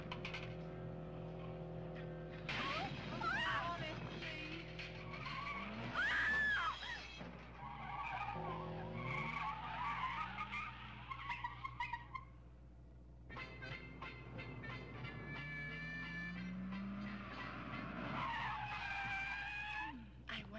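A car brakes hard and skids with loud tire squeals in a slapstick film chase, with engine noise and scattered voices calling out over the screeching tires.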